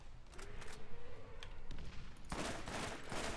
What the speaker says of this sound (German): Der kann Laser schießen, der Superman.